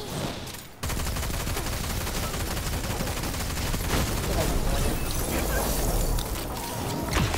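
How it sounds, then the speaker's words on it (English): Rapid automatic weapon fire hits Vex enemies in the Destiny video game: dense, sustained bursts of loud shots that start abruptly after a brief quieter moment and continue with little pause. "Okay, we'll shoot them."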